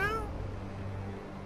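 A cat in South Park: The Fractured but Whole gives one short, bright meow right at the start, then fades into low game background hum.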